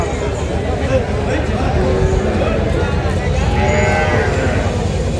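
A dairy cow, a Jersey-Friesian cross, lows loudly at Kaharol cattle market in Dinajpur, with a long moo rising over a busy crowd murmur and people talking nearby.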